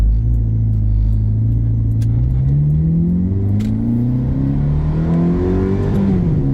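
A 2007 Ferrari F430 Berlinetta engine revs loudly, its pitch climbing steadily, then drops sharply as a gear shifts and the revs start rising again.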